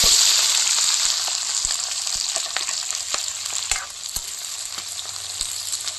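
Chopped onions hit hot mustard oil already holding dried red chillies, whole cumin, cinnamon and garam masala, giving a steady loud sizzle up close with occasional stirring scrapes, no voices.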